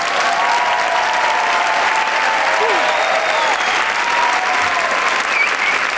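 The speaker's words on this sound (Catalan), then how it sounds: "gràcies per aquest aplaudiment" A comedy show audience claps steadily, a dense, loud, unbroken wash of applause lasting the whole stretch, with faint voices mixed in.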